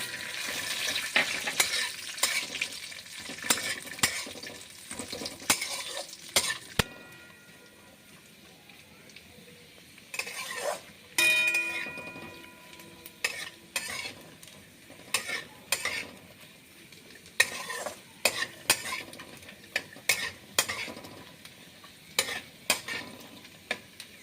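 Raisins and grated coconut fry in a pan, a soft continuous sizzle broken by frequent scraping clicks of a spoon stirring against the metal, fairly quiet and close.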